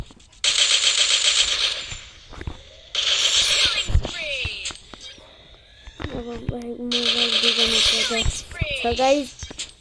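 A mini machine gun in a video game fires in long rapid bursts, loud and close, separated by pauses, with someone talking in between and other game effects scattered throughout.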